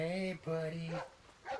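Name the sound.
dog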